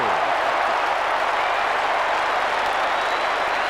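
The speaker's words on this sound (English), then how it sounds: "even the Essendon supporters are giving begrudging applause now" A stadium crowd at a 1989 Australian football preliminary final between Essendon and Geelong applauds, a dense continuous roar of clapping and cheering that stays level and loud throughout, heard from a distance as broad crowd noise.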